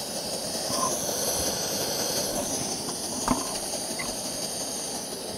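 An MSR WhisperLite Internationale camping stove running flat out beneath a pot at a full rolling boil, a steady close roar and hiss with bubbling churn and one small clink, no voices.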